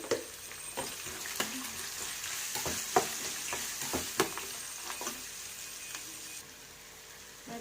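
Sliced onion fries with turmeric and salt in a pan, giving a continuous moderate sizzle with a series of short scraping stir strokes throughout, close by and without speech.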